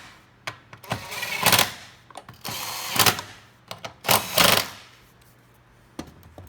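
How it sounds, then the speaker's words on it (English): A 10mm socket on a power driver screws down holding bars on a Honda EU7000i generator, heard as short whirring bursts of a few seconds each, separated by brief pauses and light clicks, close up with no talk. "we're going to screw them down with our 10mm socket"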